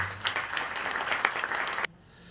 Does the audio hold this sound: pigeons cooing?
no